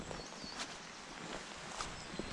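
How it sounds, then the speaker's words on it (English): Footsteps on soggy, wet riverside ground beside the North Esk River while foraging for wild garlic: a few faint, soft, squelchy steps, close and quiet, with no talk. "stepping into something soggy"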